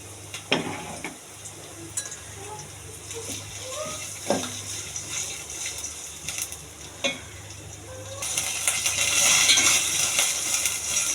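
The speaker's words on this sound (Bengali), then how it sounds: "মশলাটা আমি একটু ভালোভাবে ভুনে নেব।" A paste of ground cumin, garlic and onion sizzles in a pan at a quiet, steady level, broken by scattered scraping stirs, and the frying hiss grows louder toward the end.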